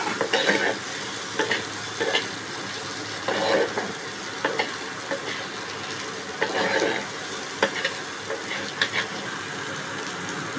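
Eggplant frying in fish oil in a pan for a chorchori, with steady sizzling and repeated scraping stirs of a utensil against the pan at irregular intervals, close and clear, with no talking.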